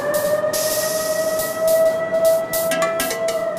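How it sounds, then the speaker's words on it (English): A steel mill siren sounds while a large, hot load of steel is moved. It is a steady, sustained electronic tone, fairly loud, over a rumbling industrial background with intermittent hissing bursts. Nobody speaks. "They always sound a siren when something big and hot is being moved in the mill."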